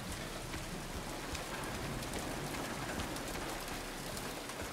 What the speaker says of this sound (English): Rain, still raining, rain again.